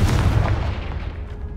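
Confringo fire spell in the game Hogwarts Legacy: a heavy booming blast with deep rumbling energy that fades quickly over about a second and a half.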